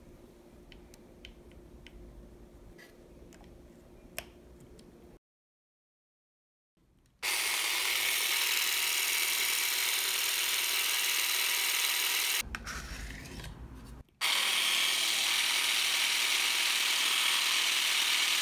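A Shall cordless grass shear and hedge trimmer switches on and runs with a loud, steady mechanical buzz, briefly changing tone partway through. Before that, only faint handling clicks and a short silence.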